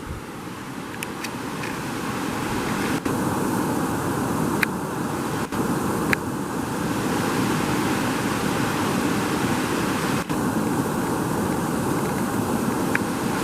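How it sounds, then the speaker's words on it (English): A mountain creek tumbles over rocks on the slopes of Mount Rainier, Washington, producing a steady, fairly loud rushing wash of water with a few faint clicks and knocks scattered through it. "Just a happy little creek"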